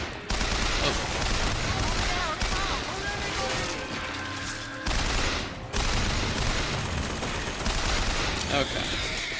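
An automated turret in the video game BioShock Infinite firing loud, dense bursts of rapid gunfire with crashes, pausing briefly a few times, while a person talks over the shooting.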